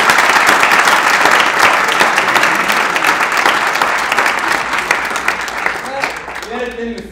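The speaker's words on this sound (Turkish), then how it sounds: "Biz için çok büyük bir alkış istiyorum." Loud, dense applause from a theatre audience after a student play, sustained and steady before thinning out near the end, where a voice begins to speak over the last scattered claps.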